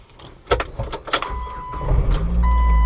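A lifted 2006 Jeep Wrangler TJ engine cranks after a few clicks and thumps, then settles into a steady low idle rumble that carries on to the end, close by with no talking.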